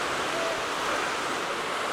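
A waterfall roars as a steady, dense wash of rushing water, loud and unbroken for the whole stretch, with no voices.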